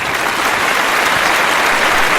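Loud, dense applause sound effect on a podcast, a continuous wash of clapping from a large crowd that holds steady and close throughout, with no voices over it.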